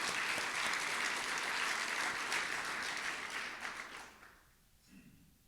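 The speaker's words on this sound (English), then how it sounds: "Let's give them a round of applause for their birthdays." Applause from a Rotary club meeting crowd greeting members' birthdays, steady clapping that fades out over a few seconds.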